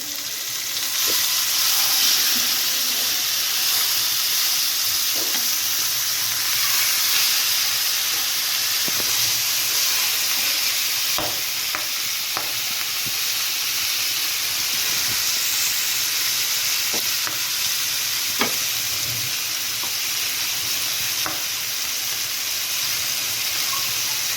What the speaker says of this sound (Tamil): ஒரு 2 மினிட்ஸுக்கு நல்லா சிக்கன்லாம் ஃப்ரை ஆகட்டும்.